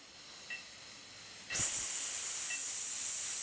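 A sudden, strong breathy hiss starts midway and holds steadily, like a forceful exhaled shush, close and loud after a quiet stretch.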